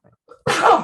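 A single sharp sneeze bursts out after a faint inhaled catch of breath, close and loud, during a podcast conversation.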